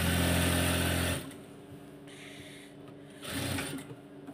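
A sewing machine stitches fabric close up, first with a loud continuous mechanical whir, then a quieter stretch, then a second short burst of stitching.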